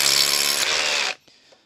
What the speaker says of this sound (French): Je me suis mis tout de suite en position perçage avec percussion et on va voir tout de suite ce que ça donne.